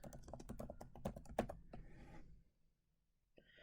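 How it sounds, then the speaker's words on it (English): Search terms being typed on a computer keyboard produce a quiet, rapid run of keystrokes lasting about two seconds, then near silence with one last soft tap. "I'm going to type in Super Bowl with quotation marks"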